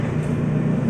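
A Honda Vario 150 scooter with a weak fuel pump runs with a steady, droning engine hum, close and constant for under a second with no talk over it.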